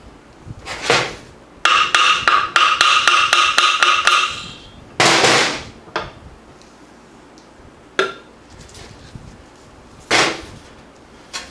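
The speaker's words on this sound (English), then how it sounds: "they will spring and pop on you" Metal snap rings are pried off a Chrysler 727 automatic transmission, giving sharp metallic clicks and rapid rattling taps followed by several isolated loud pops and clanks.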